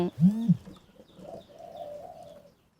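A red collared dove coos close by. One loud, deep opening coo is followed by a run of softer, rhythmic coos that fade out.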